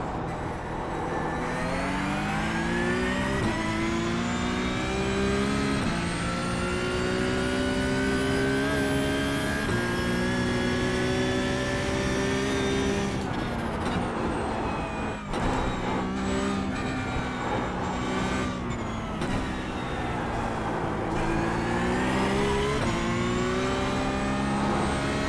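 A Porsche 992 GT3 Cup racing engine lapping Knockhill in iRacing, loud and close, revving up through the gears with sharp shifts, dropping under braking around fifteen seconds, then climbing again.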